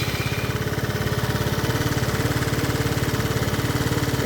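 A Lance Cabo scooter engine running steadily just after starting, a rapid even putter close by with a constant level throughout and no voices.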